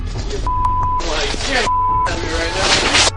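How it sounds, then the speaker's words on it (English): Two steady censor beeps cut in over people talking, one after another, each lasting about half a second. "How do we have this beeped version?"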